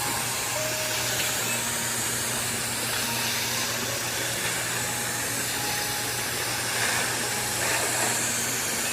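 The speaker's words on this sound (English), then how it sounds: "that's why I come out and spray the plant to kind of cool them off" Water spraying from a hose over plants in a hot home garden, a steady, even hiss that runs unbroken for the whole stretch, moderately loud and close, with no talking.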